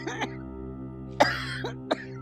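A person coughs and clears their throat in a few separate harsh bursts, close and moderately loud, over a steady electrical hum.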